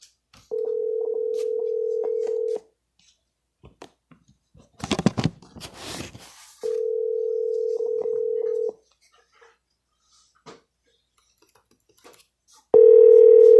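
Steady telephone ringing tones from outgoing real estate cold calls sound in long bursts separated by silence, with a brief scratchy handling noise between them and a louder tone at the end.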